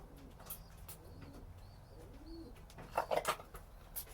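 Racing pigeons in a loft give soft, low cooing calls, several in sequence, with a brief flutter of wings and light rustling, close and quiet, without talk.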